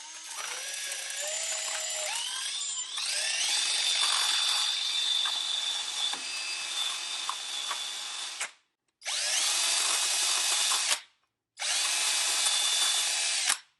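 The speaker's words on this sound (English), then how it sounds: "you can use something like a Scotch-Brite on a drill to clean these surfaces also" A power drill fitted with a Scotch-Brite abrasive pad whines at high speed cleaning brake parts on a 2006 Honda Odyssey, in one long run, then cuts out and restarts for two shorter bursts with brief silences between.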